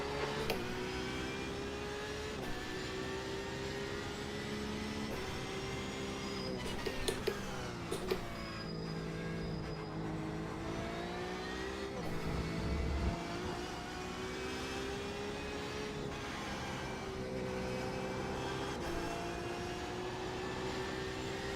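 A Porsche race car engine in the racing game iRacing, holding a steady high whine with shifting pitch as it accelerates and lifts, continuous and prominent with no talk over it.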